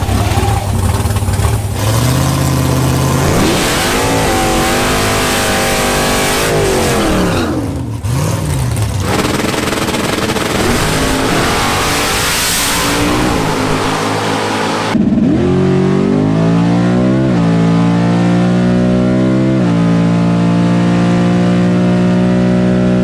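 Chevrolet COPO drag cars, a naturally aspirated 427 against a supercharged 350, rev and accelerate loudly with rising and falling engine pitch, a steady roar throughout with a sharp shift midway.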